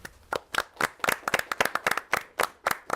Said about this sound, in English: Now, a big round of applause for them.